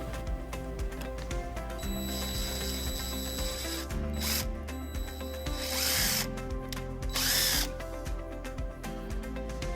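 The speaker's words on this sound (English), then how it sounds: "And then we'll drill our next hole." A power drill bores a hole in a 2016 Mitsubishi Outlander while a wiring harness is installed, whirring steadily with bursts of higher-pitched grinding and ratcheting clicks as the bit cuts through.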